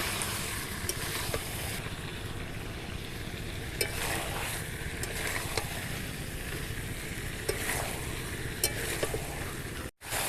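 Chicken and potato curry meat fries in a pan, a steady close sizzle with a spoon stirring and scraping throughout, cutting out briefly at the very end.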